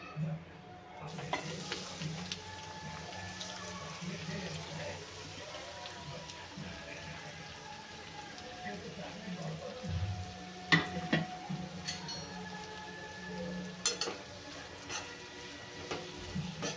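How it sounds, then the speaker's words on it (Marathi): Finely chopped onions, a quarter kilo, frying in oil in a pan, giving a steady soft sizzle with occasional stirring scrapes and clinks throughout. "कांदे आपल्याला तेलामध्ये छानपैकी गोल्डन करून घ्यायचे आहेत।"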